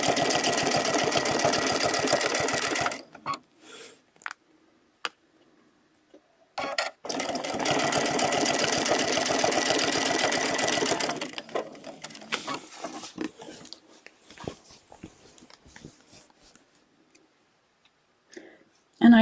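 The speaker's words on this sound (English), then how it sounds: "so I'm just going to start out and stitch a nice little spine" Sewing machine stitching a feather spine, a fast, steady mechanical chatter in two bursts of several seconds each, close and loud, followed by quiet clicks and someone speaking.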